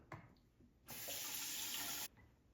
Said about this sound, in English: So I'm gonna add a little more water.